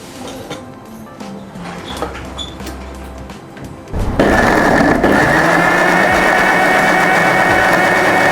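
A blender whirs into a loud, steady puree of cooked onions and tomatoes for Shahi Paneer gravy, starting abruptly after a few seconds of quieter kitchen clatter and holding a constant high drone to the end.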